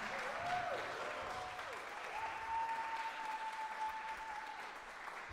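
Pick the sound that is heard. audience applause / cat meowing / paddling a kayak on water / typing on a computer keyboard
audience applause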